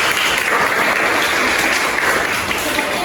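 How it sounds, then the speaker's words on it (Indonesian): A classroom full of students applauds together in a steady, dense clatter of clapping that carries evenly through the whole stretch without any talking. "kita berikan aplaus semuanya"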